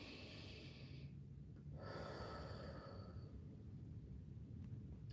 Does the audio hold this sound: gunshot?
no